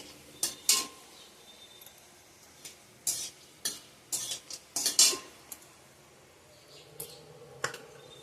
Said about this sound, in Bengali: তেল গরম হয়ে গেছে, এখানে ফোড়ন দিব। গোটা এলাচ, লবঙ্গ, গরম মশলা, দারচিনি দিয়ে দিলাম।